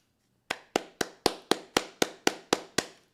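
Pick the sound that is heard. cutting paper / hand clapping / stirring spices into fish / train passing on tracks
hand clapping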